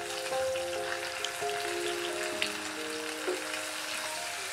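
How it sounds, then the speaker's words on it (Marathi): Onion and garlic paste sizzles steadily in a hot pan over low background music, with a few scattered spatter pops. "आता ही व्यवस्थित परतवून घेऊया।"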